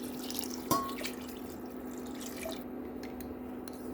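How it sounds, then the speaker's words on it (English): Water poured into a pot of rice soup, a splash onset followed by faint dripping and trickling over a steady low hum, fairly quiet and close. "And let's add water."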